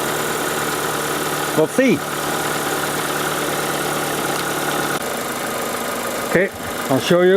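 An Opel Zafira engine, running on all four cylinders with a good battery after a misfire, idles steadily throughout, with someone speaking briefly over it near the start and end.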